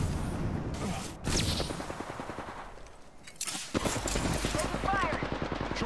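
Automatic gunfire in the online shooter Apex Legends, rapid bursts of shots hammering close and loud, pausing briefly midway before resuming, with a voice talking over the action.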